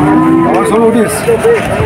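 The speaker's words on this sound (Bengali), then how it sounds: "দর্শক এখানে অনেক গরু বাছুর আছে এখানে" Cattle at a cow and calf market in Shahpur, Khulna, moo loudly and close by, several drawn-out calls following one another over a steady background of market noise.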